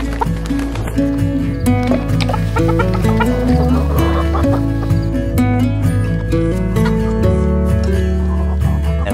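Backyard chickens cluck loudly and continuously, layered over a steady sustained musical background with no pauses.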